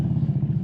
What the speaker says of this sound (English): With me riding this motorcycle for 50 minutes?